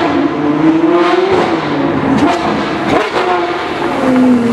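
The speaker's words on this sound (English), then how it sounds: "Here comes the A12 GTS. It's obviously straight pipe." A Mercedes-AMG A-Class GTS-type sports car with a straight-pipe exhaust roars past nearby, its loud raspy engine note rising and falling as it goes by, with no talk.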